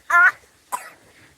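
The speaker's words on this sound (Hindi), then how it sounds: "क्या हो गया, खांसी हो रही है?" Two close coughs, a strong one followed by a shorter, weaker one after a brief pause, with no talking.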